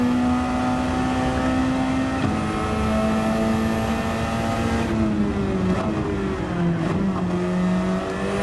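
A race car engine drones steadily around the Sarthe circuit in a racing video game, its pitch holding high and then stepping down slightly as it slows, loud and continuous with no talk.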